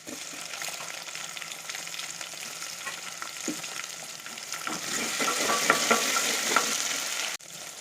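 Onion and tomato fry in a pan for a spicy mutton curry, a steady sizzle with scraping stirs that swells louder midway, close and without speech.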